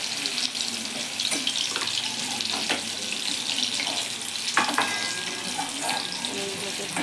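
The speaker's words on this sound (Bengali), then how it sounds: "পনিরগুলোকে ভাজতে অল্প আছে" Paneer frying in a pan for matar paneer, a soft continuous sizzle at low level, broken by occasional light clinks and stirring scrapes.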